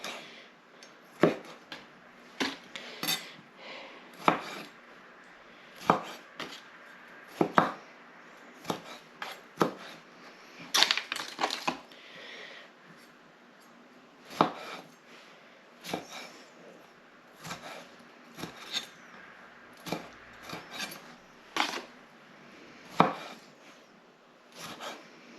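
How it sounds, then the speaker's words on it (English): A knife chops small tomatoes on a board in irregular bursts of crisp knocks, close and fairly clear, with short pauses between runs of cuts and no talking. "I've got a few little tomatoes here which I'm just going to use up first. And just cut them as big or as little as you like."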